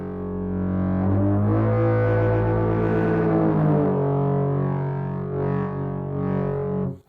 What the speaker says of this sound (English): now you hear that beautiful distortion